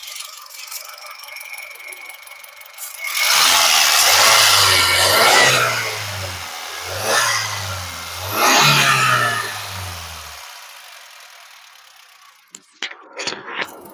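A Honda Brio SMT petrol car engine, heard with the bonnet open, revs loudly in three rising bursts over a low idle, then settles back to a quieter idle.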